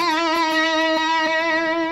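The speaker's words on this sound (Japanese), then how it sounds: "その2、痙攣のようなチョーキングビブラート。" A single bent note on an electric guitar is held for about two seconds with a nervous, jittery vibrato that wavers unevenly, loud and close with a slightly gritty tone and no voices.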